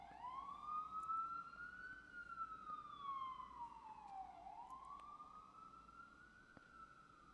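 Emergency vehicle sirens wail outside, a single rising and falling tone sweeping slowly up and down, heard from a distance through walls, faint but steady for several seconds.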